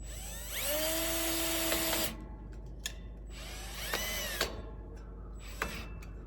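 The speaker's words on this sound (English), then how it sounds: "put the screw on my drill" A power drill drives a screw into a small household build, whining loudly in two long revving bursts that rise in pitch, followed by a short final burst, with brief clicks and taps between them.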